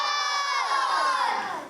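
A large crowd at a Dawat-e-Islami day gathering shouts a loud, drawn-out slogan in unison, the massed voices swelling and then tapering off.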